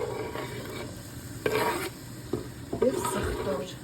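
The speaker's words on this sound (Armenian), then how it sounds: "տապակելու եմ 1 հատ լավ գլուխ սող" Onion fries in a little vegetable oil in a pan, a steady soft sizzle broken by a few louder scrapes and stirring clatters at close range.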